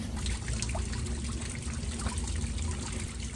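A child plays with water outdoors, a steady trickle running continuously over a low background hum, with faint splashes mixed in.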